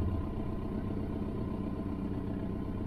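A car engine idling steadily from inside the cabin during a driving lesson, the note shifting slightly as the clutch is lifted to the biting point; a low, even hum throughout with no talk.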